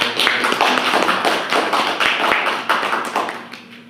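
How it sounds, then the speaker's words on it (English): Clapping from an audience at a Metaverse Day event for April and Darrell, a loud, close patter of hands that holds steady, then thins and fades toward the end. "April and Darrell, everybody, let's give them a round of applause"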